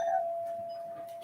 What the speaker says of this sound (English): Just a minute, doorbell rang.